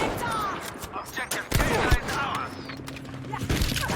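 Gunfire in a Battlefield V sniper fight, a scatter of sharp shots and bursts over busy game noise, with a couple of heavy cracks near the middle.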